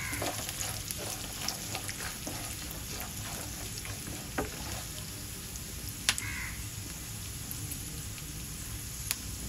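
Steady crackling sizzle of peanuts roasting in a hot oil tempering with chillies, with occasional sharp pops and stirring clicks, continuous and fairly close.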